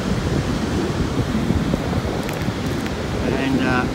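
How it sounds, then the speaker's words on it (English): Ocean waves washing up at a secluded beach, a continuous loud roar of surf mixed with wind buffeting the microphone, with brief voices near the end. "The waves have been coming up here most of the day."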